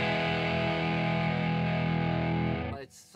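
Electric guitar through a Wampler Dual Fusion overdrive pedal rings out with a hairy, buzzy, compressed distortion, a loud sustained chord that holds for over two seconds and then cuts off abruptly.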